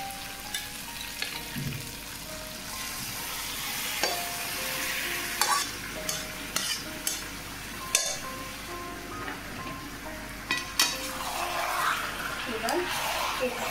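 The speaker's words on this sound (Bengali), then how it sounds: "এবার আমি ম্যারিনেট করা চিকেনটা এখানে দিয়ে দেবো।" Marinated chicken is tipped into softened onions and frying oil, then stirred, with repeated sharp scrapes and clinks of a spoon against the pan over a continuous sizzle.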